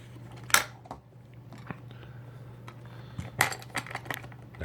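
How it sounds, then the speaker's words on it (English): Plastic lid of a Compact Electra C8 canister vacuum cleaner being opened: two sharp clacks about three seconds apart, with smaller clicks and rattles between them, close and quiet over a low steady hum. "So we'll open up the lid."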